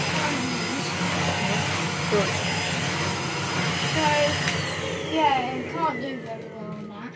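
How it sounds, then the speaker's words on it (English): Two cheap vacuum cleaners running together on carpet, a steady close whine and roar whose pitch sweeps down toward the end, with voices talking over it. "So these are like some very cheap vacuums."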